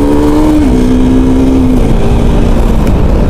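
A motorcycle engine revs loudly and close by with a steady droning tone, its pitch dropping in steps as the revs ease off, continuous throughout with no talking.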